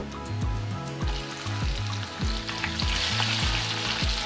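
Whole olives fry in oil with five-spice seeds for an olive pickle, a loud bubbling sizzle with rhythmic pulsing crackle and spatter close to the pan, no voices.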